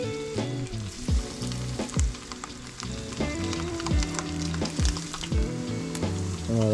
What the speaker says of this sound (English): Oh, she's sizzling. Let's go. Just shallow frying.